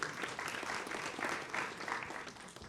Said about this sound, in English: Absolutely, they get a clap.